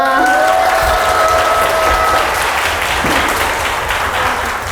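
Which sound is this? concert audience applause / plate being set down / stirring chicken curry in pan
concert audience applause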